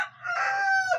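A rooster of the ajiseco breed on a breeding farm gives a single short crow, close and fairly clear, lasting about a second with no talk.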